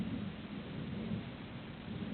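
Thunder rumbling through a thunderstorm, a steady low roll that holds across the whole stretch with no talk over it, moderately distant and even in loudness.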